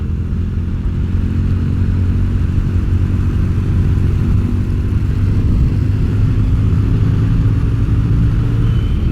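A Yamaha XV250 motorcycle engine with modified carburetor slides runs steadily and loudly at a close distance, a continuous low rumble with no pauses.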